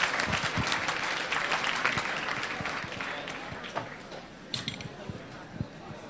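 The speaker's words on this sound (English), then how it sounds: "You can clap, it's okay" Scattered audience clapping at a hackathon closing ceremony, fairly sparse and irregular, with individual claps standing out and fading toward the end, and a voice talking briefly underneath.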